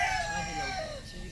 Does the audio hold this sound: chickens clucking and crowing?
yes